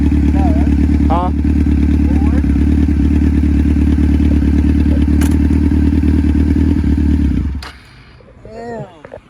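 A Honda CBR F4i 600cc sport bike engine drones loud and steady up close for most of the clip, with clattering and thumps, then cuts off abruptly near the end, leaving faint voices.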